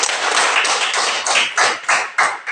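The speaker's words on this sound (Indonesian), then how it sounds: "beri tepuk tangan kepada temannya" A classroom of students applauds a classmate with a burst of loud, close clapping that comes in uneven rhythmic waves for a couple of seconds, with no talking.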